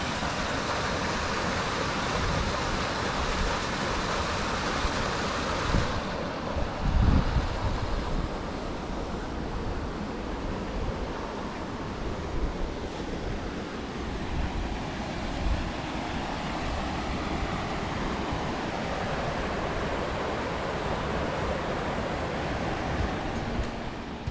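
Water rushes continuously at the Cascades beside a historic bridge, a broad steady roar with a slight wind-like hiss and no talking throughout.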